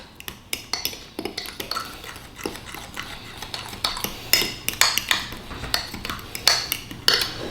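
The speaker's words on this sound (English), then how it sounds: "I'm just going to vigorously mix this with a fork, because I want it to be evenly mixed." A fork beats tiramisu ingredients with Marsala wine in a bowl, giving rapid, irregular metallic clicks and scrapes close by throughout, without talk.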